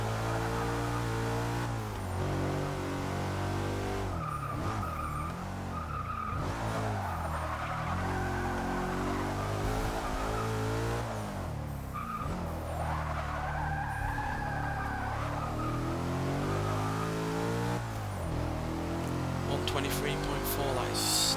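A 2012 Porsche Cayenne Turbo SUV in Forza 6 pushed hard around a track, its engine revving up and down while tires squeal and skid through the corners, loud and continuous throughout.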